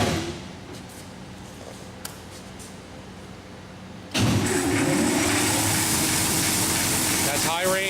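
A DoAll ZW-3620 36-inch high-speed Zephyr vertical band saw is bumped into high gear: a quiet idle hum under faint talk jumps suddenly to a loud, steady mechanical roar and whine that holds to the end.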